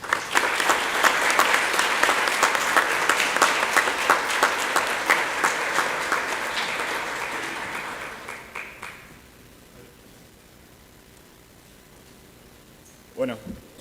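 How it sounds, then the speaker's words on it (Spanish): Loud, sustained applause from an audience at an AI Litoral 2023 competition presentation, dense clapping for about eight seconds before fading to near silence, followed by a brief thump at the end. "Así que les damos un fuerte aplauso a Agustín Marcioni y María Belén Camandone."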